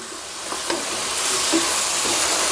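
Pumpkin and minced pork stir-frying over high heat, a loud continuous sizzle with a few spatula scrapes and taps against the pan, heard alone.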